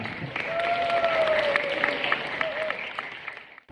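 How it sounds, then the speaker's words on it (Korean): Wedding guests applaud in a hall, a dense burst of clapping that swells and holds for several seconds, then fades away, with a faint voice and some crowd noise underneath. "박수 한번 부탁드리겠습니다."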